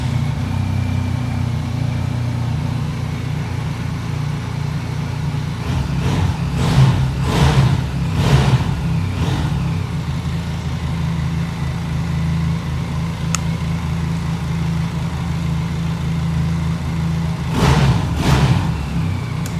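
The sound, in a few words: stock motorcycle engine idling and revving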